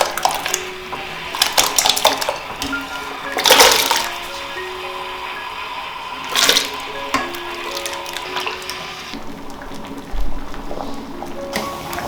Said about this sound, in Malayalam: ഇത് നമുക്ക് തിളക്കുന്ന വെള്ളത്തിലേക്ക് ഇട്ട് കൊടുക്കാം